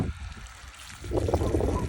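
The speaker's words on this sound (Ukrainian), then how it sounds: "Ось зараз Артем піднімає насос." Water trickles and dribbles as a well pump is lifted out of a shallow well, faint at first then a louder splashing gurgle in the second half.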